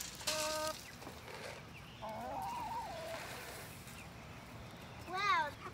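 Backyard chickens in a coop give short, bright clucking bursts at the start and again near the end, while a person talks in between over a low outdoor rumble.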